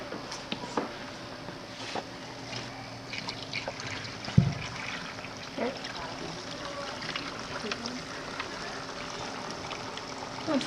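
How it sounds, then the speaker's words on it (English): Water pours through a hole-punched styrofoam sheet onto a desktop disaster model, falling as steady rain-like trickling and dribbling across the landscape and river. The patter is continuous and moderately close, with one sharp knock partway through. "I pour water onto this piece of styrofoam which I punch holes into, and then it rains and causes mudslides and floods"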